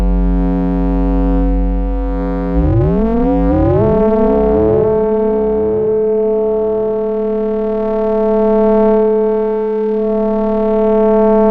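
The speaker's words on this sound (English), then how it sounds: "Slash delay from Mimeophone." Synthesizer tones sweep and repeat through a Mimeophone delay, each echo arriving at a steady pulse and fading, layered over a sustained humming note.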